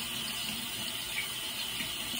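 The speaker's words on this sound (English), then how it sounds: "we put some conditioner in her now, and we're just rinsing it out now" Hot water runs steadily from a tap while conditioner is rinsed out of hair, a constant, soft hiss with no voices.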